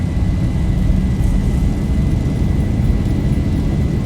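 A Boeing 737-800 in the X-Plane 11 flight simulator spools its engines to takeoff power, a loud, steady, broadband roar with a faint high whine, continuous throughout with no talking.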